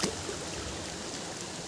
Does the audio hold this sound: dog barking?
no